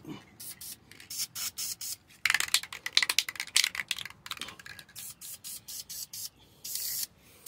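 An aerosol can sprays a protective coat onto MGB brake parts in a string of short, close hissing bursts of varying length, with brief gaps between them.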